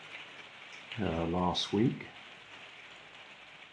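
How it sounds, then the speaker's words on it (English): Steady light rain falls throughout as a soft background hiss, with someone talking briefly over it in the middle. "if you can hear me over the rain in the background"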